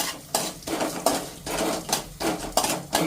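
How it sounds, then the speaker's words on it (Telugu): About ten garlic cloves are dropped into a metal pan holding lightly roasted coriander seeds, urad dal and cumin for tomato chutney, making a rapid series of sharp, close clattering knocks with no talking. "ఒక 10 వెల్లుల్లి రెబ్బలు వేసేసాము."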